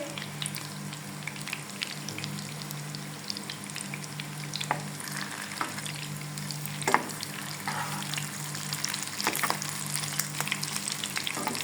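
Meat pakoras fry in hot oil with a steady, dense sizzle and crackle, close and continuous, with occasional louder pops and stirring scrapes and no talking.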